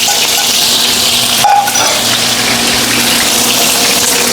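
Onions dropped into hot grease in a pot set up a steady, bright sizzling hiss, close and constant throughout, with a slight clatter partway in.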